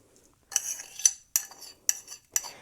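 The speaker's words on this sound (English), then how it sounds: "And then we need to stir until the lye has dissolved." Lye is stirred into water in a container for cold process soap making, giving five sharp, close clinks of a utensil against the vessel at roughly even intervals after a brief quiet start.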